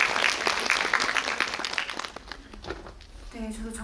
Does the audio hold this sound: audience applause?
yes